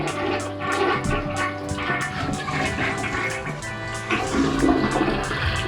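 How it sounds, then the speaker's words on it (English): A newly installed toilet is flushed while water is poured in, giving a loud, continuous rushing gurgle of water close up that lasts the whole time. "So what you do is you flush and pour it."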